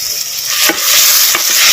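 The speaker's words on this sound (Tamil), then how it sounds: "வெங்காயம் தக்காளி பழம் நல்லா வதங்குறது" Onions and tomatoes fry in hot oil in a pan for a pond fish gravy, a loud steady sizzle with a few scraping stirs of a spoon, no talk.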